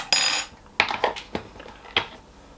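Dried active yeast being spooned into a bowl while making brioche hot cross buns, a bright rattling pour followed by several close clinks and taps of a metal spoon against the bowl.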